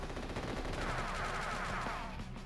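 Rapid bursts of small-arms gunfire from units in the strategy game Advance Wars: Days of Ruin, a dense continuous rattle that stays fairly quiet and steady throughout, with no talking.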